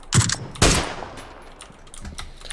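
Video game gunfire in a shooter match near a hangar: two sharp bursts of shots early, then fainter scattered distant shooting trailing off, with no talk over it.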